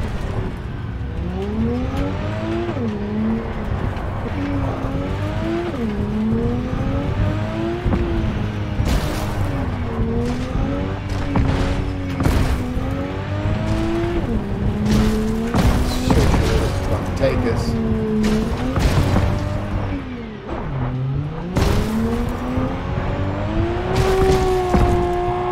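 A car driven in the video game Cyberpunk 2077 gives a steady engine drone whose pitch rises and falls with gear changes and throttle, under continuous talk with occasional thumps.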